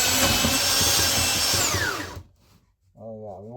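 A budget belt sander runs at full speed with a loud, steady, gritty whine that cuts off after about two seconds. A voice speaks briefly afterward.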